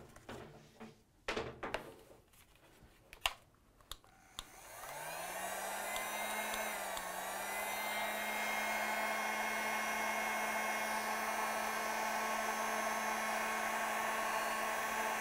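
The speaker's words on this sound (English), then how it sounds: "now we'll use our heat gun here" Heat gun blowing on heat shrink tubing over paracord zipper pulls: a few handling knocks and clicks, then a steady close fan roar with a whine that holds to the end.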